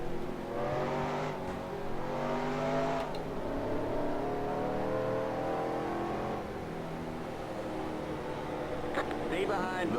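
In-car engine of a NASCAR Racing 2003 stock car drones loud and close, climbing in pitch then holding a steady high roar, with someone speaking over it.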